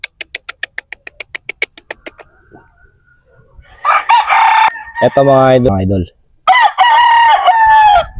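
Green legged sweater roosters at a farm cluck in a quick rapid series, then crow loudly several times close by, with someone talking briefly between calls.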